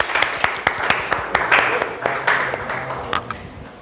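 A small classroom group claps for a group presentation in a teacher-training session, with sharp, uneven claps scattered across the moment and a little talk underneath.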